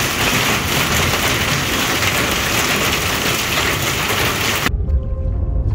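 A spring thunderstorm rain on an Iowa fishing trip hisses in a loud, dense, unbroken downpour, then cuts off abruptly near the end, leaving faint low sounds.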